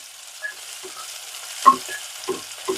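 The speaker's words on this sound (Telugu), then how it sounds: "ఒక చిన్న ఉల్లిపాయ వేసాను, తర్వాత 2 పచ్చిమిరపకాయలు వేసాను." Onion and green chillies frying in hot oil with mustard and cumin seeds, a faint steady sizzle broken by several soft stirring knocks from a spoon in the pan.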